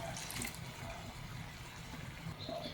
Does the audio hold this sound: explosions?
no